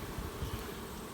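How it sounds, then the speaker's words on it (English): Honey bees fan their wings at a hive entrance during a fall honeyflow, making a steady, dense buzzing hum with slight low throbs. The sound is close and continuous, with no talk. "we have bees fanning the entrance of the hive"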